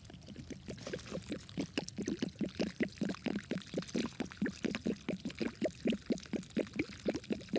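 Water is poured onto the base of a plant in the bush after a storm, a quiet close splashing that pulses in a steady rapid rhythm throughout.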